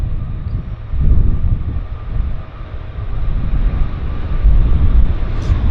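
An airliner rolls down the runway for takeoff at Vancouver Airport, a loud steady broadband roar and rumble that swells and eases over several seconds with no talk.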